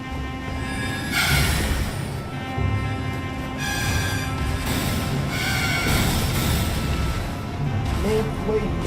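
A horse in the fantasy video game Elden Ring whinnies several times in long, bright neighs, mixed with hoof clip-clops and game ambience, fairly loud and close.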